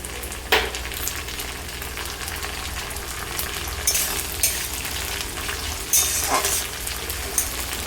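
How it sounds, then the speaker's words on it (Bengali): Chopped tomato sizzles and fries in an oily pan over onions for a Bengali drumstick and potato chorchori, a steady close crackle with a few louder bursts as it is stirred, and no talking. "টমেটোটা দিয়ে কিছুক্ষণ ভেজে নিব আমি"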